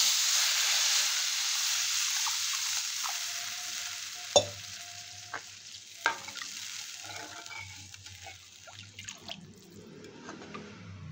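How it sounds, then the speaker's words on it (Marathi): Loud hissing sizzle as water hits hot oil, fading gradually while sharp spattering pops and a few clinks break through. "आपण याच्यात पाणी टाकून घेणार आहोत."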